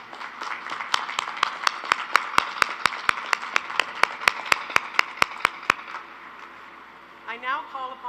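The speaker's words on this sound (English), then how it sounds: "Please give Ms. Olguin another round of applause to thank her." Audience at a university spring commencement ceremony claps in a steady run of sharp, evenly spaced claps for about six seconds, then fades as a voice begins speaking.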